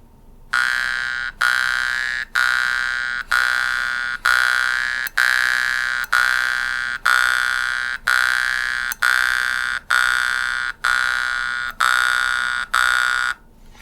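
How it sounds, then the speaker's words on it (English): A mouth harp (jaw harp) is plucked inward in a steady rhythm, giving about a dozen sharp twanging buzzes that each decay before the next pluck, loud and close with no talk. "we're going to practicing plucking in at a rhythm, breathing through the nose only"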